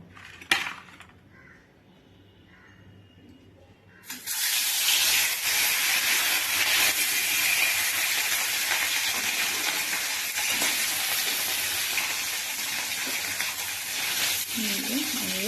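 Bata fish rubbed with salt and turmeric drop into hot oil with a sudden loud hiss that settles into a steady, close sizzle, after a few quiet seconds and a spoken remark at the start.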